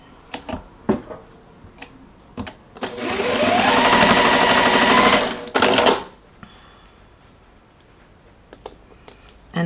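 A sewing machine stitching quilt flower block pieces, a close, fast rattling hum of about two and a half seconds with a short second burst after it, set among soft handling clicks and taps.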